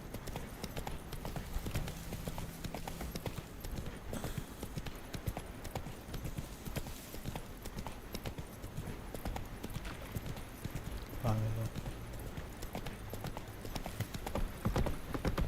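Hooves of the horse Roach in The Witcher 3 video game, a rapid, continuous clip-clop at a gallop, close and steady, with game ambience and occasional brief voice beneath.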